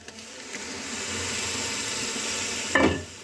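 Grated tomatoes go into roasted masala in a pan while cooking a market-style Nutri soybean curry: a steady, close sizzle runs throughout, then a brief louder splattering burst as the wet tomato hits the hot pan near the end.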